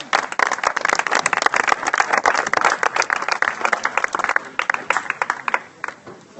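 An audience applauds at the draw ceremony of a tennis open in Cagnes-sur-Mer, a dense burst of many hands clapping that thins out toward the end.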